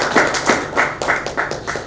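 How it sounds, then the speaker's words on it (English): Audience applause in rhythmic, unison claps, about six sharp beats spaced roughly a third of a second apart, loud and close in a room at a talk on digital content for business. "So let's clap for yourself"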